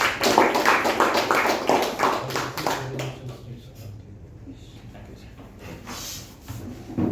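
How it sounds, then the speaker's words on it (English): Applause at a Toastmasters club meeting: a burst of many hands clapping for about three seconds, loud and dense, then fading into quieter room noise with a few scattered claps near the end. "Round of applause."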